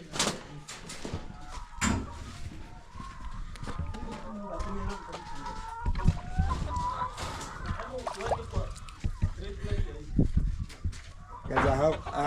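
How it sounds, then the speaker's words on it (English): Chickens clucking around a village, with scattered cackles and short calls amid outdoor ambience, fairly close, while someone talks over parts of the scene. "Oh, chicken."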